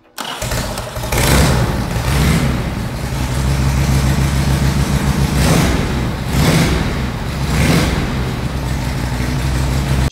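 A Harley-Davidson Ironhead hardtail chopper engine fires up and runs loud and close, its rough, uneven idle swelling in periodic revs over a steady low rumble with no talk.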